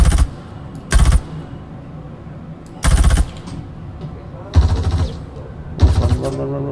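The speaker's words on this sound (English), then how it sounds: "Oh my god, they're doing suppressing fire." Bursts of enemy suppressing gunfire in the Star Citizen game, four or five short loud volleys a second or so apart over a steady low background hum, with someone talking between them.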